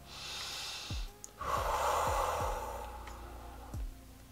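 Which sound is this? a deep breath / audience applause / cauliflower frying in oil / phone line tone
a deep breath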